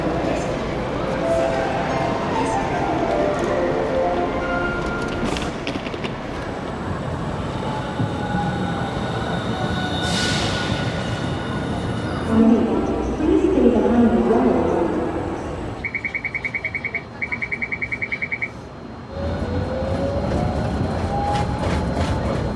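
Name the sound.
Hiroden streetcar tram in Hiroshima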